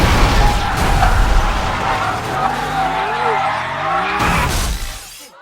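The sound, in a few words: race car skidding out of control in a film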